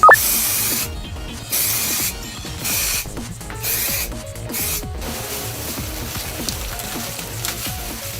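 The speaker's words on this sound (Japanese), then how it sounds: "ホルツの耐熱マフラースプレーですね。" Holts heat-resistant muffler spray paint hisses from an aerosol can onto a Nissan S15 Silvia muffler pipe in several loud, short bursts, then a softer steady hiss follows, with no talking.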